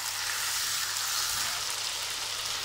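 Chicken pieces frying in masala in a pan give a steady, even sizzle with a close, crackling hiss throughout, no voices heard.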